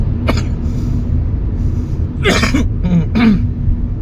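Several harsh coughs close by, one brief hack then a cluster of two or three, over a low constant rumble.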